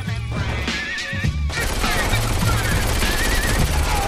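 Rapid bursts of automatic gunfire from the video game Saints Row IV ring out loud and continuous, layered with dense action-game effects throughout.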